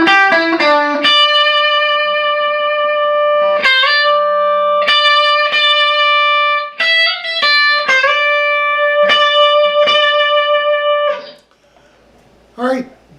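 An electric guitar plays a solo with clean sustained notes, slides and vibrato, loud and close, with a lightly effected tone and a short fade near the end.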